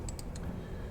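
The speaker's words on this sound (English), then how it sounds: "you can hear this clicking" A few quick, faint clicks over a steady low background hum during a Descent into Avernus tabletop game session, three short ticks close together.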